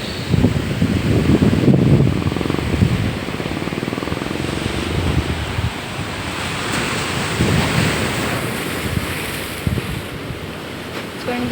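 Ocean waves wash continuously onto Uppada beach, a dense, steady roar of surf with wind buffeting the microphone throughout.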